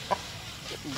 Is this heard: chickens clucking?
yes